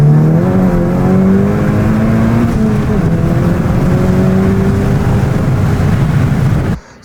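A turbocharged manual car with lighter wheels accelerates hard in one gear, its engine note climbing steadily and loud for about seven seconds before cutting off abruptly at the end.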